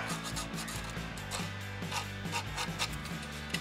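Steady rough scraping of coarse sandpaper rubbing back and forth over wood, fairly quiet and continuous with a rasping rhythm.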